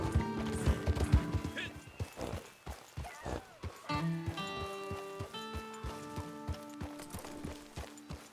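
Horse hooves clip-clopping in the video game Red Dead Online as a horse leaves a stable, a steady rhythmic series of hoof strikes at moderate distance, mixed with game music tones and occasional speech.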